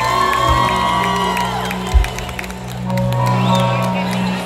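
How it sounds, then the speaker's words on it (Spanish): Crowd at a Bolivian folk festival celebration cheering, whooping and clapping in a loud, sustained wash, with music tones and voices mixed in throughout. "un aplauso"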